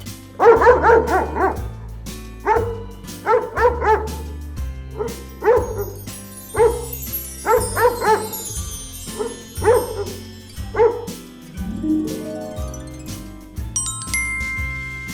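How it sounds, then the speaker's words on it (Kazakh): A dog barks repeatedly in short, loud bursts, several quick woofs in a row with brief pauses between, fairly close, followed by a short tinkling chime at the end. "Ит. Ит."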